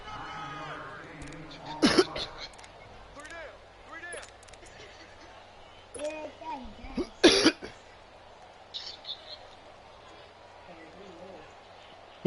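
Someone coughs in a few harsh bursts, two of them loud and close, with throat clearing, while quieter voices and small knocks fill the background.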